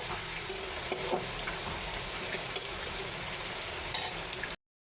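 Dried red chillies frying in hot oil for dal, a steady close crackling sizzle with faint stirring, running continuously before cutting off abruptly.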